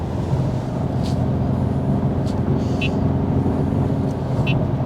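A BMW M2 Competition with the S55 engine drives on a morning road, its steady engine drone and road rumble filling the cabin at constant loudness, with no talk.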